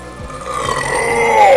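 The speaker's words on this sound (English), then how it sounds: "These are like beer burps that I'm having right now" A single drawn-out beer burp, close and loud, rising in pitch and swelling toward its end, with no other sound around it.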